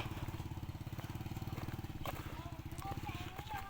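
Small Honda Wave 100 motorcycle engine idling steadily in first gear on a grassy dirt track, a dense rapid low putter with faint clatter and some high metallic squeaks near the end.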